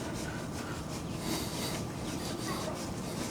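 Caulk being rubbed by hand over a spot while installing a Maxx Air fan on a truck camper roof, a steady, close scraping and rubbing with no pauses and no talk.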